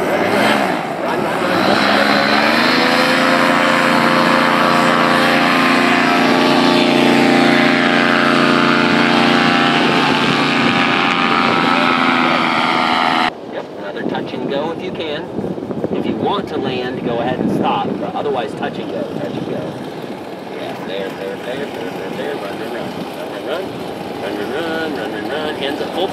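A paramotor engine runs at full throttle during a powered paragliding training launch, a loud, steady, close droning roar for about thirteen seconds that then gives way to rough wind buffeting.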